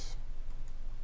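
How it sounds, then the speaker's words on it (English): A computer mouse gives a few light, sharp clicks, close and faint, over a quiet background. "right mouse click"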